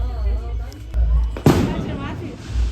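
A single firecracker bursts over village houses on a winter evening, a sharp pop that sounds somewhat distant beneath people talking.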